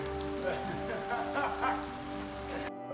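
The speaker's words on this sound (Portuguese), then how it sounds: "Essa chuva está marcando o fim da seca aqui na minha região." Steady rain patters on surfaces around a home vegetable garden in a dry region, a dense close wash of drops that cuts off abruptly near the end.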